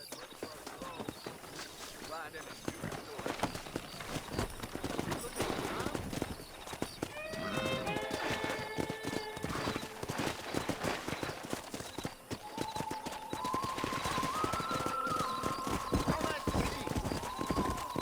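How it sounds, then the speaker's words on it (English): Hooves clip-clop at a gallop over a busy outdoor soundscape, with horses neighing and whinnying, and a voice talking over it, in the video game Red Dead Redemption Remastered. "let's see if we can't wrangle some horses"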